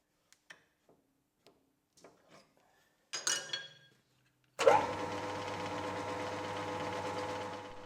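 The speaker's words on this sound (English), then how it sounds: "If you're wondering what that rattle is, rest easy, as it's only the upper cover for the motor belts and pulleys." A lathe's loose upper cover over the motor belts and pulleys rattles steadily once the machine starts running, following a few faint clicks and taps.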